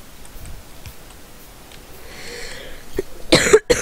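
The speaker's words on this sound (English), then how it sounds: "Sorry, I'm coughing." A sick man gives a short cough near the end, two close, sharp bursts after a few seconds of near-quiet with faint clicks.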